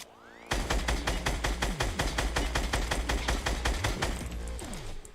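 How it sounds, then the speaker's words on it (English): A gold SCAR assault rifle fires a sustained rapid burst at a boombox in Fortnite, loud and evenly spaced shots hammering for about five seconds with no talking. "shooting it with a scar"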